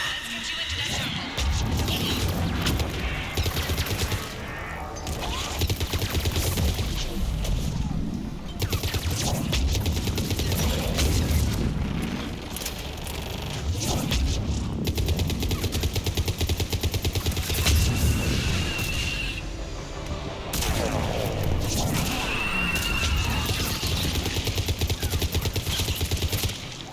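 Talon 5 fires missiles during a Mass Effect 3 battle, a dense, continuous barrage of blasts, crashes and booms at steady loudness with voices intermittently over the din.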